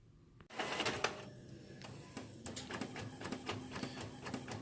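An inkjet printer feeds and prints a photo for mug sublimation, giving a fairly loud run of mechanical whirs, clicks and rattling carriage passes that continue steadily throughout, with no talking.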